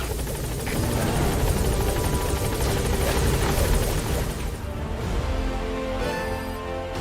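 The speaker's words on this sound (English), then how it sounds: "Support helicopter has arrived." A support helicopter in the video game Metal Gear Solid V: The Phantom Pain thumps its rotor loudly and steadily nearby, with a whining engine that eases slightly toward the end.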